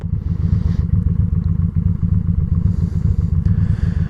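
A motorcycle engine runs steadily and loudly close by with a throbbing low rumble, and no other sounds are heard.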